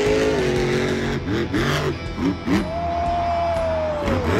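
A blue Jester toy diecast monster truck races on a track, heard as a loud, continuous engine roar with rising and falling revving, tire squeals and a crowd noise bed behind it.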